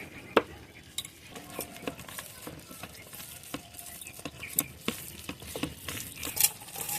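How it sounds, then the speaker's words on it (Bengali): Fried chillies, garlic and onion being mashed together with salt in a bowl produce repeated soft squelches, taps and clicks of a hand or utensil, irregular and close, with a faint background hiss. "লবণটা পেঁয়াজ রসুনের সঙ্গে মাখিয়ে নিচ্ছি"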